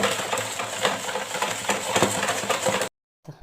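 Cookie dough of eggs and cocoa being hand-whisked, a steady busy scraping and clattering close by for about three seconds, then a sudden cutoff to silence with a faint knock at the end.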